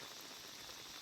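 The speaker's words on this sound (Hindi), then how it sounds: "बारिश अभी भी बूंदों में है" Light rain pattering steadily onto leaves and ground in a forest at night, a soft, even hiss of drops with no voices, faint and continuous throughout.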